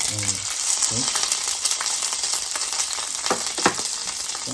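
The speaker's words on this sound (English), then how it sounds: "Okay, garlic is fried now. Now I'm gonna add this deep fried pepper and" Garlic and deep-fried peppers for chilli paneer sizzle steadily in a hot pan, a close, constant fry with stirring scrapes and a brief voice at the start.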